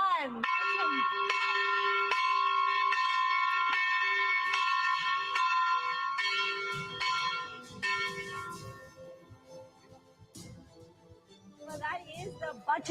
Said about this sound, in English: that is the budget day bell